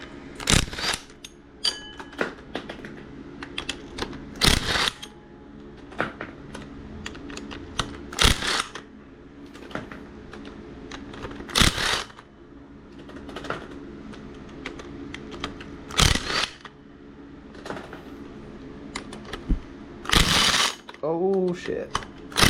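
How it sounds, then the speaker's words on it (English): A crank pulley is worked off a 5.2 Magnum engine with hand tools, producing a string of sharp metallic clicks and ratcheting knocks at irregular intervals. Someone speaks briefly between them. "let's take this crank pulley off."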